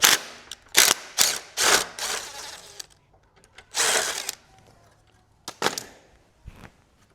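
A hand ratchet undoes nuts holding a bracket on a car, rapid close clicking in several short bursts with brief pauses between turns.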